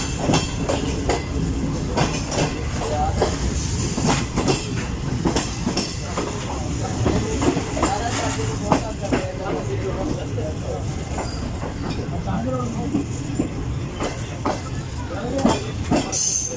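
A passenger train rumbles slowly through a Pakistani station under a speed restriction, heard from the last coach of the Karakoram Express, with steady clatter and rail noise, continuous and fairly loud, voices murmuring underneath.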